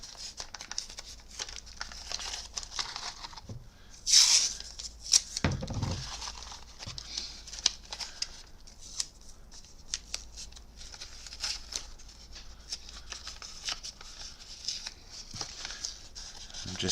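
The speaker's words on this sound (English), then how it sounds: "I'm just taping one end off" Tape being torn and pressed down over a plastic sheet while masking a Lexan body for painting, with close crinkling, one sharp rip and soft patting at a steady low level.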